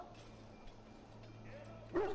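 A dog from the video game Dragon Age Origins gives a short bark and whimper near the end, set over a steady low game hum and ambient tones.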